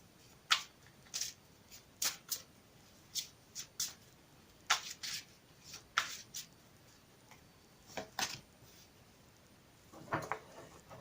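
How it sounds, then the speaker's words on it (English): A deck of oracle cards is shuffled in short, crisp riffling bursts with brief pauses between, soft and close in a quiet room. "I've already pre-shuffled these cards, but I'll shuffle them again for you on camera."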